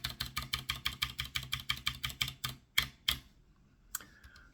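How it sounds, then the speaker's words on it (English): A noisy computer keyboard is typed on rapidly and close by, about eighteen clicky keystrokes in a quick, even rhythm, followed by a few separate, spaced taps. "My keyboard's noisy, isn't it?"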